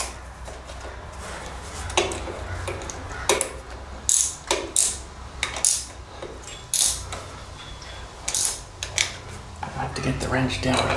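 A wrench ratchets while rockers, cover and a new manifold are fitted to a Ford 800 tractor engine, sounding as close, repeated bursts of rapid clicking separated by short pauses.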